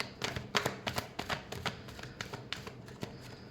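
Tarot cards are shuffled by hand in a quick burst of crisp riffling flicks and taps, close and clear, with no voice over them.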